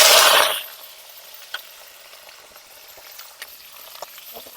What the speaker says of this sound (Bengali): সর্ষের তেল দিয়ে দিলাম। এবার বেবিকর্নটা আর আলুটা ভেজে নেব।